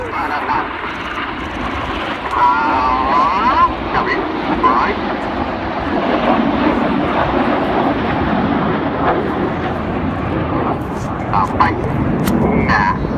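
Red Arrows Hawk jets at the Cosford air show display, a steady, loud broadband jet roar that holds throughout as a lone jet passes, with a commentator talking over it.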